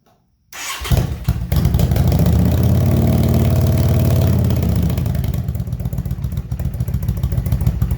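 A 2005 Yamaha V Star motorcycle engine starts on choke after a short silence, then settles into a steady, loud idle with a rattling, slightly uneven chug, close by and without talk.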